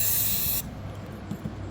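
Compressed air from an air compressor set to 45 psi blasts through a 3D-printed PLA winterizing fitting on an RV: a loud, close hiss that cuts off sharply after about half a second, leaving low background noise.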